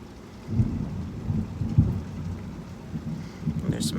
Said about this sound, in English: And there's some thunder.